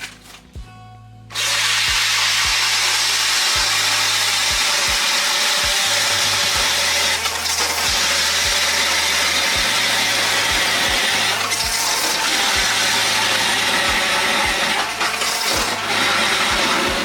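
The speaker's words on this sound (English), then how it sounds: "take your auger, go about 6 inches back. Now you want to drill all the way down." A steady, loud motorized ice auger drilling down through ice, whining almost continuously after a brief quieter start, grinding and churning without pause.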